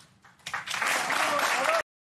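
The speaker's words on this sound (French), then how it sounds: "ça applaudit" A studio audience on a French TV talk show breaks into applause, a dense, loud burst of clapping lasting under two seconds before cutting off abruptly.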